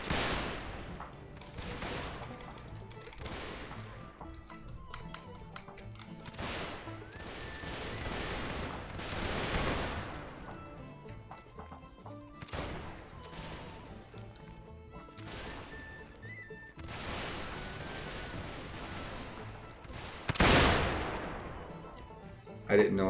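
Musket volleys and scattered gunfire crackle across a Battle of Gettysburg video game scene, with repeated bursts of fusillade rising and falling over roughly twenty seconds and a loud crash near the end.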